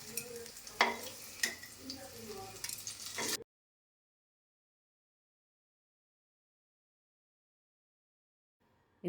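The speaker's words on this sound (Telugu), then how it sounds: "మధ్య మధ్యలో కలుపుతూ వేయించుకోవాలి" Frying and stirring in a kadai: about three seconds of close sizzling with scraping stir strokes, then sudden silence.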